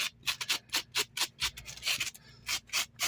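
Velcro brushed lightly over a crocheted amigurumi sausage to raise its fibers, giving a run of soft, rhythmic scratchy rubbing strokes, close and fairly quiet.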